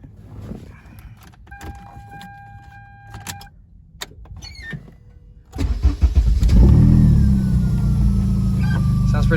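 A Toyota MR2 Spyder with a swapped K24 engine, new 3-inch exhaust with secondary cat and new intake, cranks over and catches, settling into a loud, steady close-up idle after a few quiet seconds of clicks and a whirring window motor.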